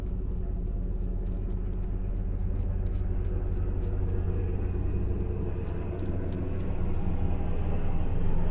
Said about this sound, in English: It's a helicopter going by.